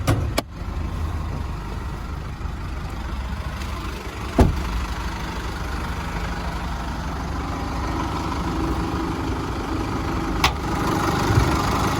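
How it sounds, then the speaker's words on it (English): A 2016 Holden Colorado LS engine idles steadily under an open bonnet with a low, even rumble, with a couple of brief clicks or knocks along the way. "have a look under the bonnet while the engine's still running"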